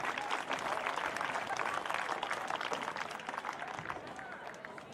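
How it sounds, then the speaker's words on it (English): A crowd at a high school football game against Sioux City Heelan gives a round of applause, heard as a dense, fairly distant clapping wash that fades toward the end. "Let's have a big round of applause for Bob Rose and the Spencer Trail Twisters."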